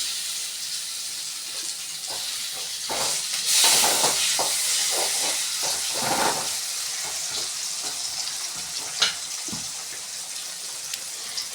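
Onions and tomatoes sautéing for vegetable Maggi noodles hiss in a continuous sizzle, with stirring scrapes throughout and a sudden loud burst of sizzling partway through.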